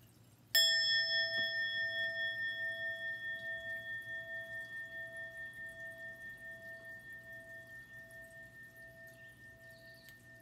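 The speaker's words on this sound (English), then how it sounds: "as the sound of the bell fades away" A single meditation bell is struck once, ringing out with a clear, sustained tone and bright overtones that fade slowly over ten seconds in a quiet room, the pitch steady throughout.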